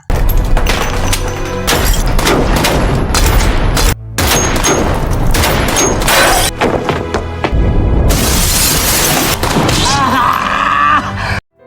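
A loud, chaotic burst of gunfire shattering a glass wall, with booming impacts and crashing, shattering glass debris layered over dramatic noise.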